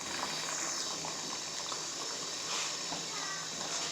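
Chana dal halwa simmers in milk in a pan, giving a dense, constant bubbling and frothy hiss that stays steady at close range throughout.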